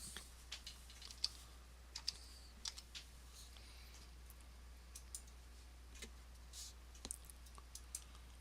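Faint computer keyboard typing and mouse clicks while logging in to an eLearning site come as scattered light clicks in a quiet room, with no speech.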